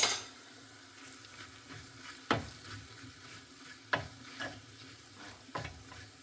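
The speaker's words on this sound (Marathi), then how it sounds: "आपलं आलं जे आहे, जिंजर, ते फ्राय होतं आहे अजून." Ginger fries quietly in a pan under a faint steady sizzle, broken by several distinct spatula scrapes and taps against the pan at irregular intervals.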